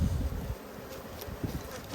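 Honey bees swarm around a hive frame during waxing of plastic frames, a close, fluctuating buzz with a few louder swells from individual bees passing near, no talk over it.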